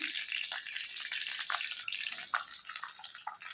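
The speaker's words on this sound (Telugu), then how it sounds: "ఈ ఉల్లిపాయ ముక్కల్ని బాగా వేయించుకోవాలి" Onion pieces frying in a pan with green chilli and curry leaves for a chicken fry, a steady hiss with soft crackles and faint sputtering throughout, close and even in level.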